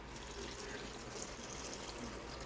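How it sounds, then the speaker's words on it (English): Cooking water saved from boiled chili pots is poured into a blender for homemade enchilada sauce, a steady close splashing rush lasting the whole moment with no talk. "And from the same water that we have from our chili pots, I'm going to add it in there."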